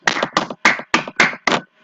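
Six distinct, evenly spaced claps in a strategy video game ring out close and loud, each a crisp burst, followed by a faint trailing tail.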